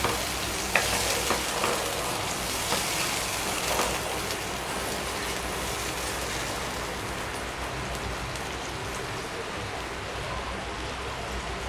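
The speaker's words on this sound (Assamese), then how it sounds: "সেয়া এতিয়া লাহে লাহে এইখিনি উতলিব ধৰিছে" A pot of kofta curry with banana flower, water just added, coming up to a slow boil: a dense, steady bubbling and simmering hiss with a few soft clinks early on, close and continuous, no voices.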